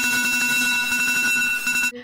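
An alarm clock plays a song as its ringtone, a steady, loud and bright electronic tone holding for about two seconds before cutting off abruptly.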